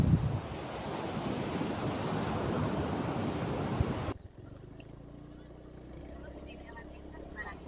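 Sea waves wash onto a sandy beach near Sungai Tunu Utara village. Loud surf and heavy wind buffeting fill the first four seconds, then cut abruptly to a much quieter, distant wash of water.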